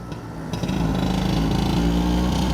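A Vespa scooter engine hums steadily and close while riding around after rain, with a dense, buzzing drone that builds slightly after the first half-second.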